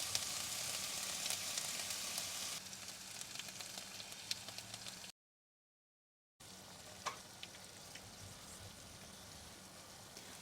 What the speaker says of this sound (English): sometimes the frying gets really loud